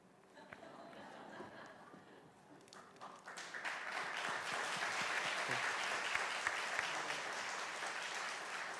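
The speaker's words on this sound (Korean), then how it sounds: "여러분 크게 박수로 축하하고 축복해 주셨으면 좋겠습니다." A church congregation breaks into applause, starting as scattered claps and swelling into loud, sustained clapping after about three seconds, with a few voices mixed in.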